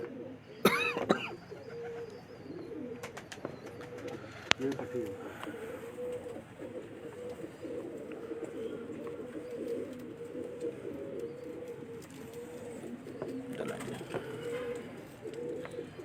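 Soft, repeated pigeon coos in a low rolling rhythm, continuing steadily through the clip with a few sharp clatters and faint background noise.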